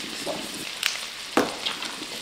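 Food cooking in a pan, a steady crackling sizzle with a few sharper pops and spits, close and moderately quiet with no talk.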